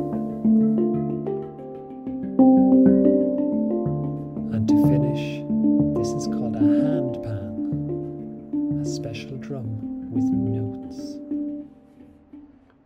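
Background music from a children's story about a magical drum, a steady melodic tune with layered harmonic instruments and rhythmic accents, playing continuously at moderate loudness with no voices.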